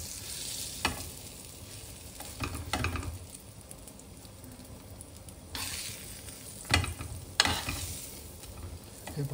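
Masala buns roasting on a hot pan give a low, steady sizzle with occasional scraping and stirring bursts as they are moved and turned, fairly close and not loud, with no one talking.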